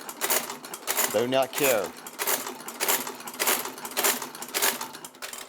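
Rapid mechanical stitching clatter, a sewing machine running in short bursts with a brief voice speaking over it.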